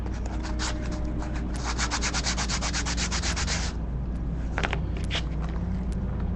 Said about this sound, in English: the first thing I do to my domino is I like to sand it